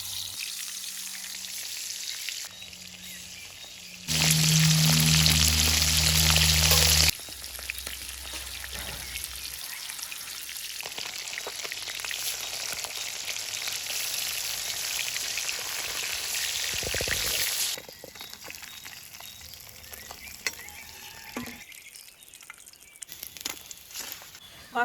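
Taki fish frying in hot oil, a loud dense sizzle that surges for a few seconds as the pieces go in, then settles into a steady crackling fry that fades toward the end, with occasional small pops.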